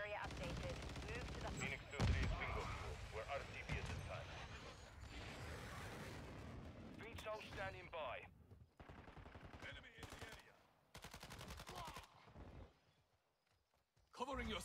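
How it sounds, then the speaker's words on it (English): Bursts of automatic rifle fire from a teammate in Modern Warfare 2 crackle in rapid runs amid game sounds and effects, with the player's voice talking over parts of it and short quiet gaps between volleys. "What is my teammate shooting at?"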